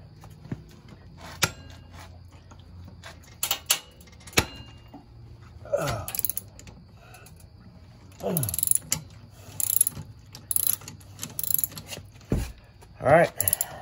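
A cheap ratchet clicks and grinds while loosening the front wheel of a Honda Helix scooter, irregular bursts of ratcheting with sharp metallic knocks and pauses between strokes.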